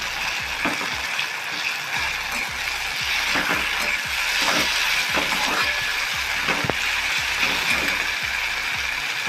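Tomato cooking in a pan for thecha, stirred with a spatula: a steady frying hiss runs beneath regular, rhythmic scraping strokes, close and fairly loud throughout.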